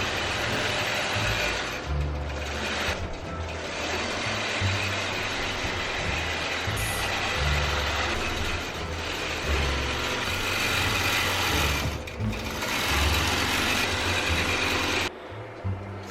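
A longarm quilting machine hums and stitches across a quilt in a steady, loud mechanical drone with a pulsing low rhythm that persists throughout.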